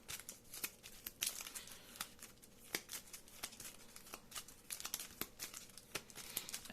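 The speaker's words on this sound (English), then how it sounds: "So I'm gonna get my claws and shuffle my deck." A deck of cards for the Marvel Champions card game is shuffled by hand close up, giving a rapid, irregular run of crisp riffling clicks and snaps.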